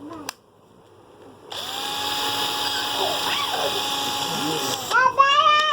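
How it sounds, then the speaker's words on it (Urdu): A used Makita 9.6 volt cordless drill whirs at steady speed for about three seconds, a loud close motor whine that stops abruptly, with a voice briefly heard at the end. "اور اس کو ڈرل بھی پرفیکٹ چل رہی ہے۔"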